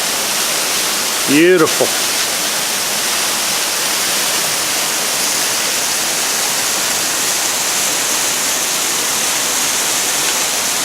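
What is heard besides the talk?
waterfall on Crispus Trail creek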